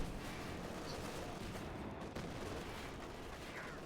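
Delayed-fuse rifle grenades from a barrage burst in a video game battle, heard as a dense, continuous rumble of overlapping blasts and gunfire at steady loudness, with no pauses and no voices.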